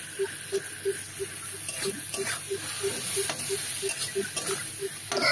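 Fish maw hits hot oil seasoned with chili powder, a close crackling sizzle with stirring scrapes, a regular ticking pattern running throughout, and a voice talking over it.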